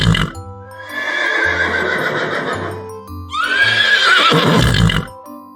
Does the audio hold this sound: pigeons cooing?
no